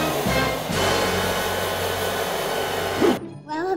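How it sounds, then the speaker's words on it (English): A blow dryer drying a puppy's fur whirs loudly and steadily for about three seconds, then cuts off abruptly, leaving a brief quieter moment with a faint voice. "We're gonna dry his hair with our blow dryer."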